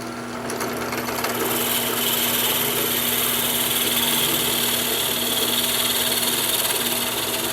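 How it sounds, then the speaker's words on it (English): A 9/32 drill bit bores one inch into the center of a wooden bottle stopper blank, a steady loud whirring grind that holds continuously with a constant motor hum beneath. "I have a 9/32 drill bit, and I'm going to drill down 1 inch in the center"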